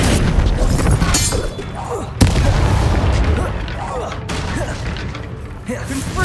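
Confringo blasting spell in Hogwarts Legacy, loud booming explosions and crackling impacts packed together, with a sharp blast midway, over dense game combat noise.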